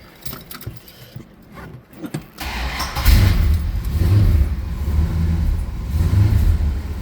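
A 1970 Dodge Super Bee convertible fires up after some clicks and cranking, then its V8 idles with a deep, loud rumble and gets a few throaty revs.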